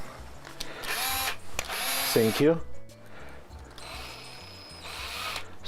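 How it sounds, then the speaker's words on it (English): A power drill bores small pilot holes into the plastic housing of a bathroom extractor fan, giving short whirring bursts with pauses between them and some handling noise. A voice briefly speaks. "So I'm going to pre-drill small holes first."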